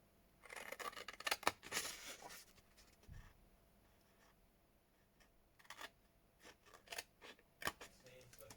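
Scissors snip out a small square in close, crisp bursts of quick cuts, with a quiet pause between two cutting runs.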